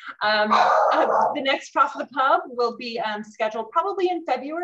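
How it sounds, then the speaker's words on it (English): A dog barks in the background while a person speaks continuously in the foreground. "Apologies for the barking dog in the background."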